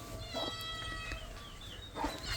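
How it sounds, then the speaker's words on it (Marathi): A kitten on a farm gives a few clear, close meows, one near the start and another near the end, over a steady low hum of background noise. "पिल्लू बघा मांजरी किती भारी"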